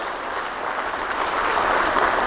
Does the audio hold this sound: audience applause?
yes